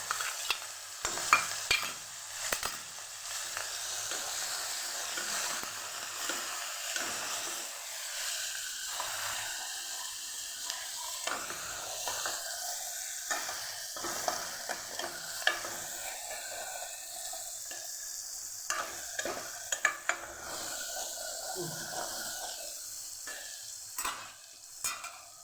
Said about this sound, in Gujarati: હવે આપણે મસાલો જે બનાવ્યો છે એને આપણે સોતરી લેવું